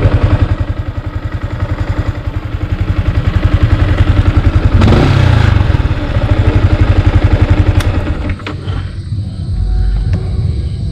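A Yamaha Sniper 155 motorcycle engine idles loudly close by, its steady low throb running throughout with a brief clattering surge partway through.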